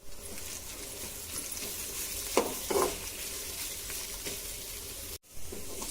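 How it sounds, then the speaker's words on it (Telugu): Ivy gourd fry with ginger and turmeric stirred in a pan, a steady close scraping and sizzling texture with a few louder spoon strokes and a brief dropout near the end, no talking. "ఇప్పుడు 1 స్పూను అల్లం, కొద్దిగా పసుపు వేసుకొని మొత్తం ఒకసారి కలుపుకోవాలి."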